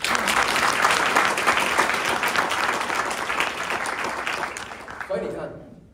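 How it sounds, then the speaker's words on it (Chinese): An indoor business-seminar audience claps in a loud, dense burst of applause that holds steady for several seconds before tapering off, and a voice begins speaking at the end. "来，给业力一个掌声。"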